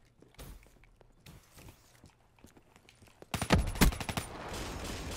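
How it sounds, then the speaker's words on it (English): Gunfire in Call of Duty: Black Ops 3 multiplayer: scattered distant shots and footsteps give way to a loud, close burst of rapid automatic fire, followed by a dense rattle of continued shooting. "Nope, but somebody's shooting at me."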